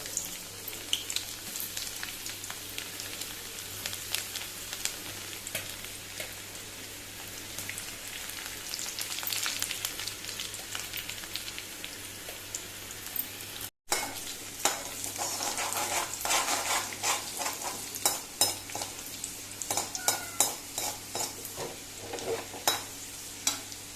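Garlic frying in one or two spoonfuls of oil in a pan for a Goan chicken chili fry, a steady soft sizzle and crackle with light stirring scrapes, faint and continuous throughout with a brief gap midway.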